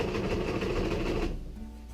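A sewing machine stitches a patch onto a pair of pants, its steady motor whirring and needle chattering close up for over a second before winding down and stopping.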